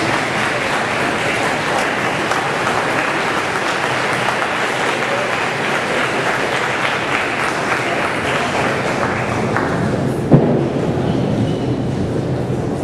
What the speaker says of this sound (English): give them a much-deserved round of applause